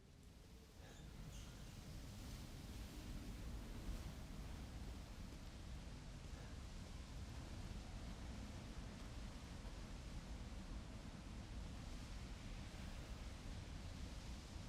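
Steady broadband roar of a waterfall beside a house in the Resident Evil Village video game, constant and loud throughout with no breaks, with faint higher tones briefly at the start.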